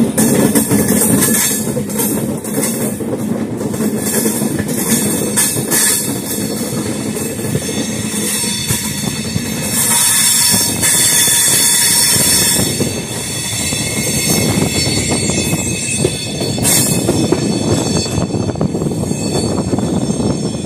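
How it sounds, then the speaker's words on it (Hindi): An intercity express train on the Valsad to Vadnagar line rounds a curve, loud continuous rumble and rattle of the carriages with drawn-out wheel squeals rising and fading over it. "भाई आप लोग देख सकते हैं शानदार कर्व लेते हुए अपने ट्रेन को, क्या गजब कर्व है"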